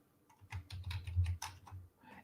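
Typing a command on a computer keyboard, a quick burst of close, distinct key clicks in an uneven rhythm, heard alone without talk.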